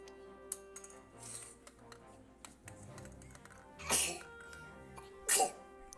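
A single loud sneeze bursts out near the microphone amid soft keyboard typing and clicking during an online Hex card game draft, followed a moment later by a second sharp burst.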